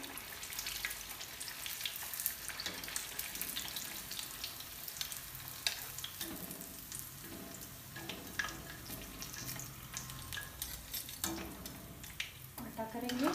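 A potato bird's nest snack fries in a pan with a steady, close crackling sizzle that runs unbroken, with a few faint clinks near the end.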